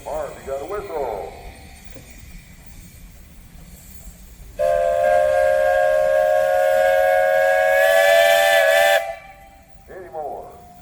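Steam traction engine whistle at a Michigan steam and threshers festival, a loud sustained blast lasting about four seconds, bracketed by crowd chatter and voices before and after.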